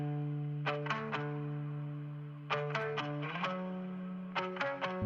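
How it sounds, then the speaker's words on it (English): Guitar with heavy reverb and effects processing in a song plays in short clusters of bright plucked notes over sustained tones, the tails ringing out and blending between phrases. "Very nice reverb."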